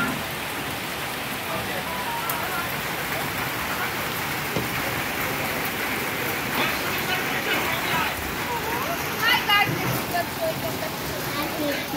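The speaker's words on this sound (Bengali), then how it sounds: "হাওয়া দিচ্ছে খুব, আর বৃষ্টিও হচ্ছে ঝমঝম করে" Heavy rain and strong wind in a storm, a dense, steady roar of rain pounding surfaces with gusting wind throughout, loud and close, with a voice talking faintly over it.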